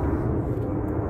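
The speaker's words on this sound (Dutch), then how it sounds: "Ik weet niet of jullie me nog horen door vliegtuig." An airplane passes overhead outdoors at a horse stable, a steady, loud low rumble that fills the whole moment with no talking over it.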